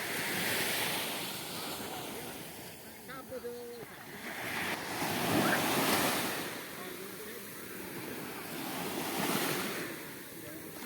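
Sea waves washing onto a beach in slow swells, with wind rushing over the microphone and faint voices in the distance.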